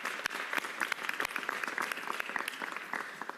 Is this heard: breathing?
no